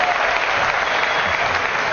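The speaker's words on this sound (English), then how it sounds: "Polite applause." A boxing crowd gives polite applause after a fight between Tony Jeffries and Paul Morby, a steady even wash of clapping with no individual claps standing out.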